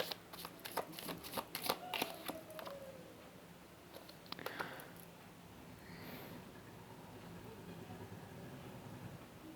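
Tarot cards are shuffled in several rapid riffling bursts early on, followed by quieter handling and soft card sounds over a steady background hum.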